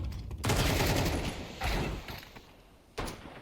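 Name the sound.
gunfire from Scout and Deagle in the video game Counter-Strike 2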